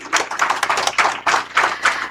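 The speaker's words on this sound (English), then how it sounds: "May I request the gathering to give ma'am a huge round of applause" Audience applause at a public gathering, a lively patter of many hands clapping close by, steady and dense for about two seconds with no voices.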